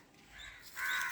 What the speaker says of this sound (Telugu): ఈ చెట్టు వీడియో తీద్దామంటే పిట్టలు చూడండి ఎట్లా అరుస్తున్నాయో